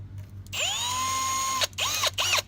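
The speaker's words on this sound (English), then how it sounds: "you can go back through with the biggest stepper bit and it won't quite fit in here, so it'll just barely take off" A power drill with a large step bit whines as it deburrs a hole in a cheap DIY tool shelf: one long close burst, then two short bursts with brief pauses between.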